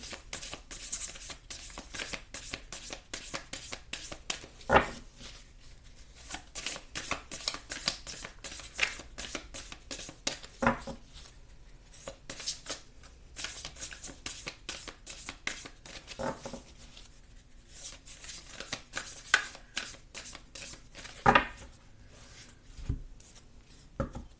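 Tarot cards shuffled by hand during a love reading, a steady run of papery riffles and soft slaps with sharper card snaps now and then, close and fairly quiet, with no talking.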